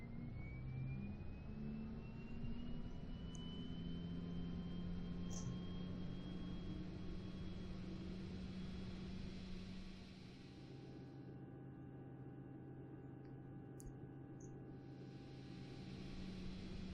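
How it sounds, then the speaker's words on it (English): Airliner engines spooling up in Flight Simulator X, a steady jet whine rising slowly in pitch over a low rumbling drone, continuous and even for many seconds, no talk. "We'll get the engines going."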